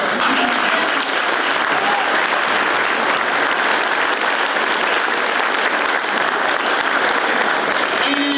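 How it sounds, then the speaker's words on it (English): Sustained audience applause at an elementary school community celebration concert, a dense, even roar of many hands clapping that holds steady for over eight seconds with faint crowd murmur beneath. "Can we have one more big round of applause?"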